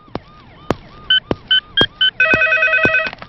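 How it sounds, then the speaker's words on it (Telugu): A telephone rings in an office scene from a Telugu comedy film: sharp clicks and clipped electronic trill bursts in quick succession, then a sustained warbling ring, loud and close with no talk. "సార్, మీకు ఫోన్."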